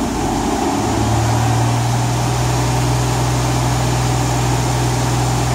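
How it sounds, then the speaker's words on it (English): A car engine climbs from idle to a higher, steady rev, holding a loud, continuous low drone close by with no voices. "let's rev it up and watch what happens"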